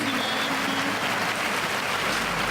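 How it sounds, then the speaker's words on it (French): An audience applauds at an award ceremony, a continuous, even roar of many hands clapping, moderately loud and unbroken, with no voices standing out above it. "sous vos applaudissements s'il vous plaît"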